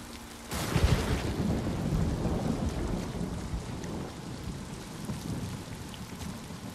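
Heavy rain pours in a Ghost of Tsushima thunderstorm, with a loud crack of thunder near the start rolling into a long low rumble under a constant hiss of rain on surfaces.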